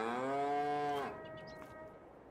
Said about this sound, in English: I got my cows coming in.